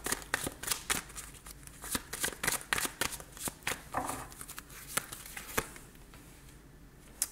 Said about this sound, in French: je vais aller juste recouvrir quelques cartes pour avoir un complément d'information